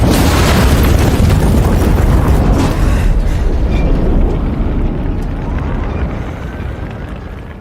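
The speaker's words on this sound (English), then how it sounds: "The explosion instantly convinced Roth that Noah's threat was not just a bluff" A loud, booming explosion bursts at once and rolls on as a long, broadband roar that slowly fades over several seconds.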